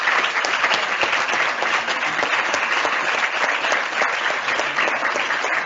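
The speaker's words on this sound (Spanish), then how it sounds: "pediros un aplauso para nuestros panelistas." A conference audience applauds its panelists after an Iberoamerican session on last-mile electrification, and the steady, close clapping fills the room without a break for several seconds.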